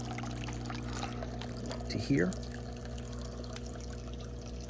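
Water runs from an aquaponics fish tank pipe through a valve into a drum, a steady trickle and pour under a low pump hum, with a brief gurgle partway through and someone talking nearby.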